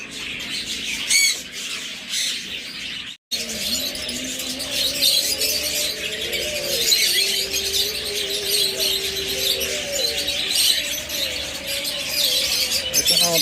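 Pet birds at a seller's aviary, including lovebirds, budgerigars, cockatiels and finches, squawk and chirp in a dense, continuous chorus, some calls close and others farther off, with no talk.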